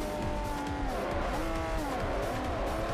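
A race car in Forza Horizon 4 closes in from behind, its engine whining loudly with pitch sliding up and down through gear changes, joined by a thin tire squeal, close and continuous.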